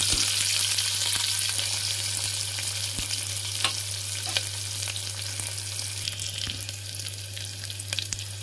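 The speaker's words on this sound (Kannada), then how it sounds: "ಈರುಳ್ಳಿ ಸ್ವಲ್ಪ ಫ್ರೈ ಆಗಬೇಕು" Onions frying in a pan for brinjal ennegayi keep up a continuous, moderately loud sizzle with occasional sharp stirring clicks over a low steady hum.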